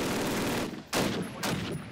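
Call of Duty machine gun fire in rapid bursts: a long sustained stream, a brief gap, then two more short bursts, loud and close with no speech.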